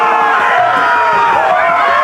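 Arena crowd in the Game of Thrones video game cheering and shouting steadily, a dense roar of many voices held at a loud, even level throughout.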